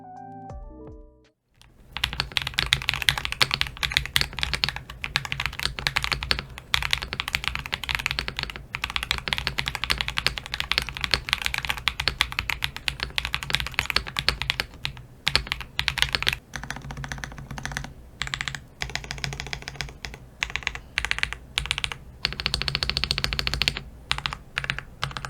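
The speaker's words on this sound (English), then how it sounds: "Alright, so let's see how it sounds." Steady, rapid typing on a GMK67 budget mechanical keyboard fitted with lubed Akko V3 Cream Yellow switches and PBT keycaps, a dense, close run of muted, creamy keystrokes with brief pauses and no speech.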